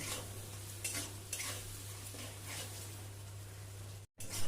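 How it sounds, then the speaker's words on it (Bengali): Ground cumin, coriander, chili powder and garam masala are stir-fried in oil for khichuri. A faint, steady sizzle runs under soft stirring scrapes against a low electrical hum, with a brief dropout near the end. "সব মশলাগুলো এবার ভালো করে কষাবো"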